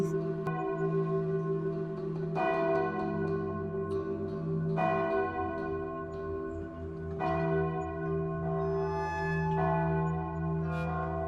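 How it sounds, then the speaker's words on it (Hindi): Church bells ring out at night in a slow, resonant sequence of strikes about every two to three seconds, each toll swelling and lingering in long overlapping reverberation, moderately distant and alone. "ये घंटियां रात में इस वक्त? पास में चर्च है क्या?"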